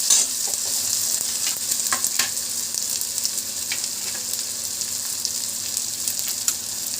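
Onions fry to a reddish brown in a pan for paneer bhurji, giving a bright continuous sizzle with occasional stirring scrapes, close and steady, with no talking.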